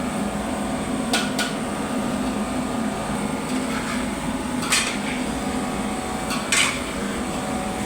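Potatoes and nuts being stirred and mixed in a pan with salt, a few scattered metallic clinks and scrapes of a utensil against the pan over a steady background hum.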